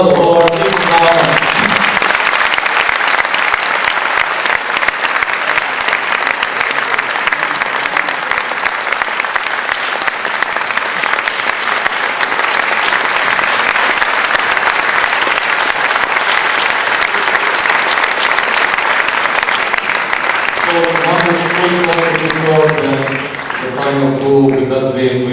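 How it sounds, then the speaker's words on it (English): Audience applause at a round-table discussion on the Maghreb, a long, loud and steady burst of clapping from a large crowd that fades as talk returns near the end. "Please give a big applause for Bauman"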